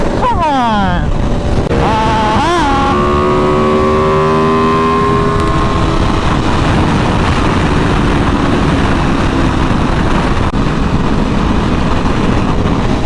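Chevrolet Camaro with a regular V6 accelerating, its engine note rising in pitch through a couple of quick upshifts before settling into a steady drone under loud wind roar, with a voice briefly heard.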